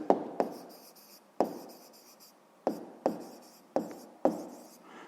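Pen strokes on paper during sixth-grade math work come as a series of short scratching bursts, close and fairly quiet, with brief pauses between words.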